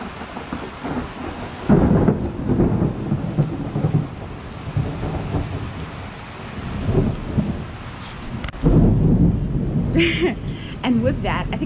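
Thunder rumbles through a heavy rainstorm on an evening just before Christmas Eve, with steady loud rain and repeated deep rolling peaks, while a voice talks over it.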